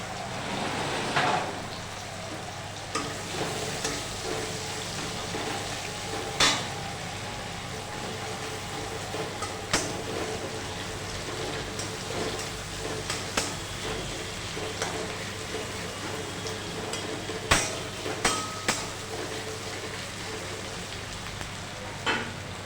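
Sliced onion hits a pan for a Bengali fish curry with taro and potato, giving a steady, soft sizzle with occasional clicks of stirring, fairly quiet and close, no talking.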